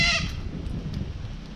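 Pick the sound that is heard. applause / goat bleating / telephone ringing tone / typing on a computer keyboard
goat bleating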